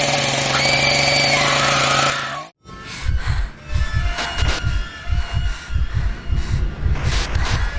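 A sudden cut from a bright noisy wash to a deep, thumping heartbeat, pulsing steadily and loudly in low, muffled beats.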